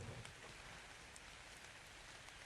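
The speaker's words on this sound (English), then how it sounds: "I love the way that the rain reacts with the water." Rain falls steadily onto water in the video game Ark Ragnarok, a soft, continuous hiss with faint scattered droplet ticks and a low rumble, even and unbroken throughout.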